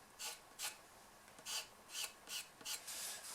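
Pastel is rubbed into paper, heard as a series of soft, close scratchy strokes in a fairly even rhythm, about seven gentle rasping swishes, faint and with no voice.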